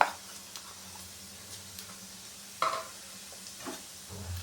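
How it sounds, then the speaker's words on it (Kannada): Mustard seeds sputter and pop in hot oil for tempering, a quiet background sizzle broken by a few sharp crackles and spits scattered across the clip, with no talking. "ಒಗ್ಗರಣೆಗೆ ಸಾಸಿವೆ ಹಾಕೋತಾ ಇದ್ದೀನಿ ಸಾಸಿವೆ ಚಿಟಪಟ ಅಂತ ಸಿಗಿದ್ದೀನಿ"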